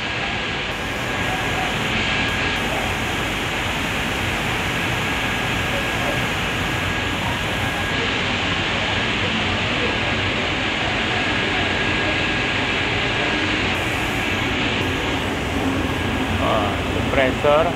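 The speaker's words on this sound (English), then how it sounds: "Compressor." Compressor at a waste plastic pyrolysis plant in Indonesia running with a steady, loud, even mechanical drone that continues without a break for nearly eighteen seconds.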